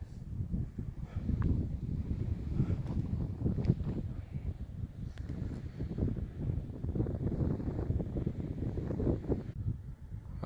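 Steady, low roaring wind of about 60 miles an hour buffeting the microphone near the summit of Guadalupe Peak, Texas, a continuous rumbling gust with no voices, moderately loud throughout.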